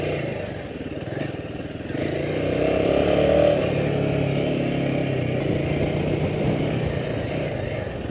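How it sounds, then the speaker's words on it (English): A Royal Enfield Himalayan 450 motorcycle chugs along steadily while being ridden, its engine a continuous low rumble that swells slightly midway, with road and wind noise mixed in and no talking. "This is such a chill bike to chug along all kind of roads."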